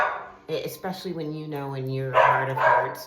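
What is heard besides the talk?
dogs barking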